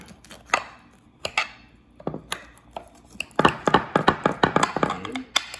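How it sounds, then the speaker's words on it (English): A knife cuts a strawberry pretzel salad into about eight slices, giving sharp irregular taps and crunches on the pan and crust, sparse at first and then quicker and louder near the end. "So I'm gonna cut it into about, it's gonna be about 8 slices here."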